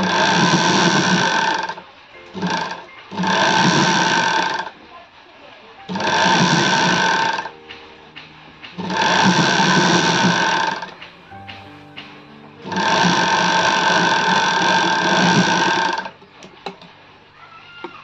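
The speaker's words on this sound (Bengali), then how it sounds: "দুটো হাতায় কিন্তু এভাবে আমি সেলাই করে নিচ্ছি।" A sewing machine stitches sleeves onto a readymade nightie in five loud whirring runs of about two seconds each, separated by short pauses with quiet handling sounds.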